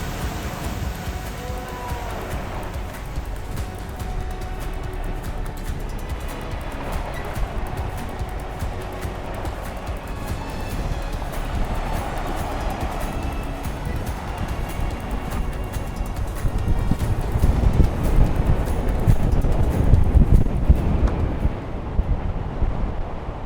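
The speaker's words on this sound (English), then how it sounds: "Pretty windy." Wind blowing hard across a sailboat at sea on a fast open-ocean passage toward Tahiti, a continuous buffeting roar with microphone wind noise and rushing water, swelling louder near the end, with no talk.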